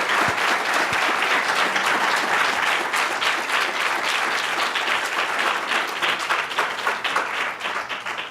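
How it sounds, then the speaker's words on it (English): A panel audience gives two guest speakers sustained, dense applause that stays loud and steady throughout, with no talking. "give a big round of applause to our two guest speakers"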